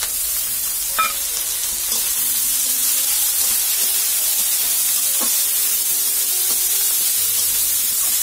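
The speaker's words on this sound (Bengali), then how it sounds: "ঝালটা আর রসুনটা দিয়ে একটু নাড়াচাড়া করে নিলাম" Chili and garlic sizzle steadily in a hot pan as they are stirred, with a dense continuous hiss and a few soft scrapes from the spoon, and no talking.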